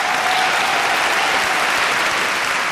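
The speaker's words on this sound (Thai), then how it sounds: "ปรบมือกับน้องซันครับ" Studio audience on a Thai talent show clapping in steady, dense, loud applause that fills the whole stretch with no voices over it.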